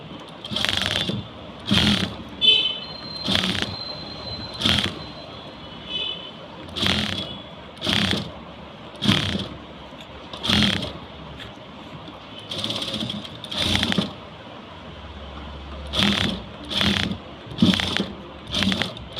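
A sewing machine stitches a fall onto saree cloth in short repeated bursts, each whirring run lasting about a second with brief pauses between, close and fairly loud, with no talking.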